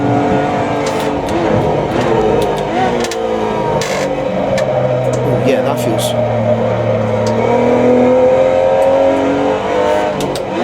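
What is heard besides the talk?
Porsche Cayman GT4 Clubsport engine revving on track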